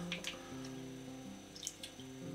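A small amount of liquid rennet trickles and pours into a junket pudding mixture, a faint, soft watery splashing with a few light drips, in a quiet kitchen.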